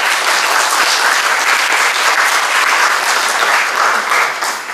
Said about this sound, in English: You will give them a round of applause,